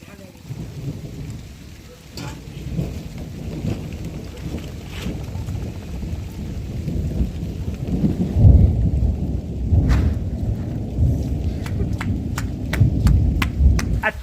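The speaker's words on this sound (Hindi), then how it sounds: "अच्छी सी बारिश हमें यहाँ पे देखने को मिली है" Heavy rain pours steadily in hilly mountain countryside, with thunder rumbling and cracking through it, building louder toward the end amid wind buffeting the microphone.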